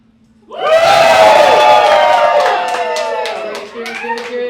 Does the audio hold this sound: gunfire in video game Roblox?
no